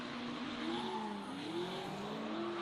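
A Mazda Miata leads a Mazda RX-7 through a drift battle, with a sustained wavering tire squeal and engine drone heard from a distance, fairly faint and continuous.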